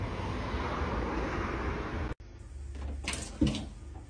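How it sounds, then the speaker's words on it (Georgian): Water pours or crashes in a steady, broad rushing wash for about two seconds, then cuts off abruptly. Quieter scattered noises follow. "ეს წყლის დაქცევის ხმა ხო არ იყო შემთხვევით"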